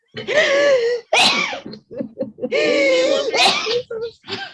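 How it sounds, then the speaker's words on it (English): Loud, close vocal bursts, a sneeze followed by gasping, voiced sounds and a second similar outburst, with short breaths in between. "I know my sneezes are terrible."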